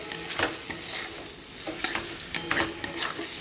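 Spice masala sizzling and frying in oil while a spoon stirs it, with irregular scraping strokes and soft crackle, close and fairly quiet, no talking.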